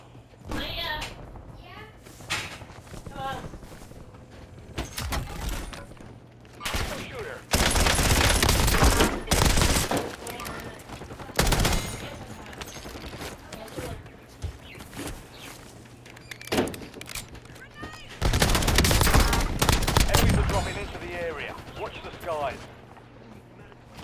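Gunfire in Call of Duty Warzone on Verdansk: repeated loud bursts of automatic weapons, some long and sustained, others short and sharp, mixed with game effects and a voice talking between them.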